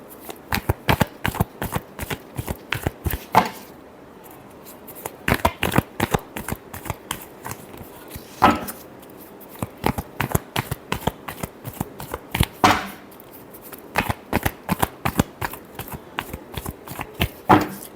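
Tarot cards being shuffled by hand in repeated quick riffling bursts, close and crisp, with brief pauses between rounds of shuffling; no voices.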